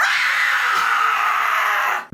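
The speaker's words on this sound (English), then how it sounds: "it's called Reverse Scream because it is actually a scream." A reversed scream effect: one sustained, swelling shriek played backwards, loud and continuous for about two seconds with a strained, wailing tone before cutting off abruptly, with no other sound.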